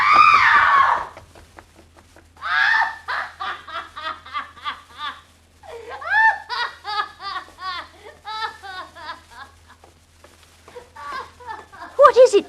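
In a 1950s crime radio drama, a woman lets out a loud, high scream, followed by bursts of shrill laughter and cackling that come and go in several phrases.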